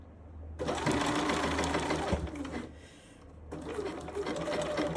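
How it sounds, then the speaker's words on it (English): A sewing machine stitches the side front of a blazer to the centre front along a 5/8 inch seam. It runs in two close, steady whirring bursts with a short pause between them, and no one speaks. "We're ready to sew the side front to the centre front."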